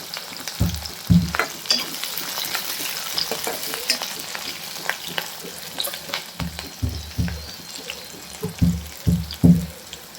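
Garlic and chilli frying in a pan for a village-style wild greens dish, a soft sizzle beneath clustered low thumps and scrapes of stirring that come in bursts.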